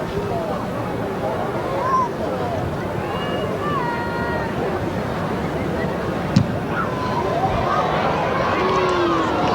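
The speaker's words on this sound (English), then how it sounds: "the oohs, the maybes, the ahs and the what's-its from the crowd" Rugby league crowd at a Keighley versus Chorley Regal Trophy match rising in a long sustained murmur of oohs and ahs, broad and distant, with a commentator speaking over it.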